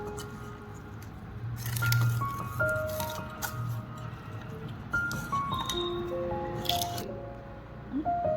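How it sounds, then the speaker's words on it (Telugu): Masala being mixed into raw chicken pieces for biryani gives soft, wet squishing and dripping sounds in an uneven rhythm, close and quiet, with a few light rattles of the bowl. "ఇప్పుడు ఈ మసాలా అంతా ముక్కలకు పట్టేలాగా కలుపుకోవాలన్నమాట"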